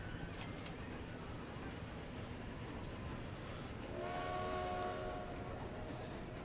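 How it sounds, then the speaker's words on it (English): A steady rumbling hum of a train running in the video game Transport Fever, set in 1929, with a tonal whistle-like hum joining in partway through at moderate level. "There's another train right behind as well, you see."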